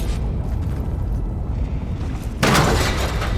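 Ballista shot in the video game Horizon Forbidden West, a sudden loud mechanical release and booming crash bursting in after a low rumbling bed, sustained to the end.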